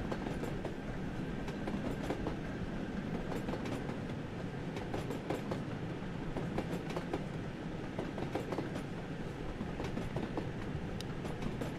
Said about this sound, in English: Express should come charging up behind us pretty soon.